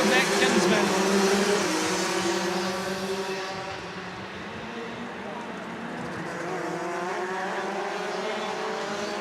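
Rotax DD2 racing karts at near full pace on a warm-up lap, a pack of high-revving two-stroke engines droning and shifting pitch together, loud and close, under a commentator's voice.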